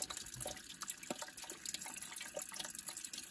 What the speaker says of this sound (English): Just about done dumping out the coolant.